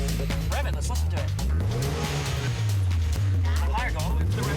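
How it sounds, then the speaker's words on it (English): A tuned import car engine revs hard and climbs in pitch, loud and close, with a blow-off valve on the car and people talking over it. "Rev it, let's listen to it."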